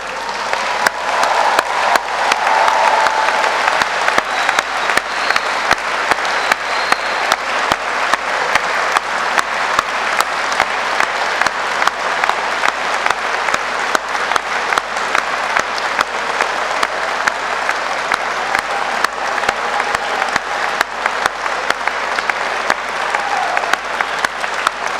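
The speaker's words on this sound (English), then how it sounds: "give them a round of applause and a big cheer" Graduates at a 2022 morning graduation ceremony give a long, sustained round of applause, dense clapping from a large crowd filling a hall at steady volume for the whole stretch.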